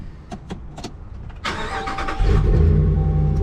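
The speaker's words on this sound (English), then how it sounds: "Now let's get this thing on the road and see how it drives." A Ram 1500 Minotaur pickup with a Hemi engine starts off, its mid-pitched engine rising from a low rumble into a loud, steady drone as it pulls away, close by with no talking.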